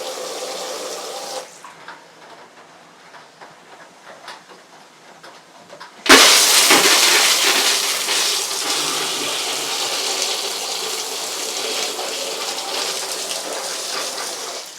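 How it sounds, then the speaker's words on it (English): Water bursts through a flood gate opened on a small North Wales hydroelectric intake, a loud, steady gushing rush that starts abruptly after quieter trickling and continues strongly. "let's open up the flood gate a little bit"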